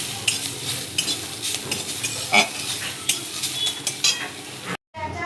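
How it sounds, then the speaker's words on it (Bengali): Radish greens frying in a pan, giving a steady sizzle with frequent scraping stirs and light utensil clinks, close up with no voices, ending in a brief cut. "কাঁচা গন্ধটা যাতে চলে যায় ওইটার জন্যই ভেজে নিচ্ছি।"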